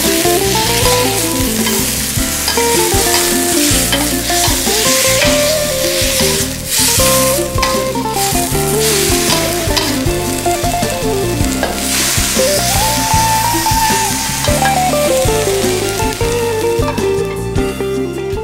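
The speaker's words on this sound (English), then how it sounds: "This will keep everything frying nicely." Asparagus and prawns sizzle and hiss steadily in a pan as they are stir-fried with chicken stock, a continuous loud frying sound under background music.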